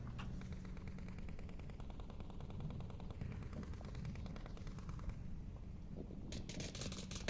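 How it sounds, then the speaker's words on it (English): Gunfire in the VR shooter Onward during a competitive match, heard as a dense, steady rattle of rapid shots that continues throughout at a fairly low, distant level, with a sharper burst near the end. "You can see how many bullets went into the window frame there."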